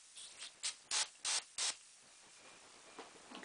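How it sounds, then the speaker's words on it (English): Several short hissing bursts from a spray can aimed at a brand-new amplifier tube in a Fender Bassman or Bandmaster, about five close, loud puffs in quick succession, then only faint hiss remains. "give it a spray, last spray"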